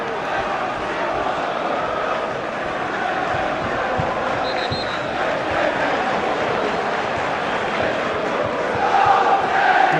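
Football crowd at Middlesbrough v Everton reacting to a substitution: a broad, continuous stadium roar with murmuring, swelling slightly toward the end, heard under a commentator's voice.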